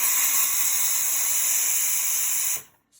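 Steam wand of a Breville Dual Boiler espresso machine hisses loudly and steadily for over two seconds, then cuts off abruptly, leaving near silence.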